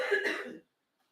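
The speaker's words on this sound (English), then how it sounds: "I don't know if you hear her in her coughing" A single short, close cough, followed by silence.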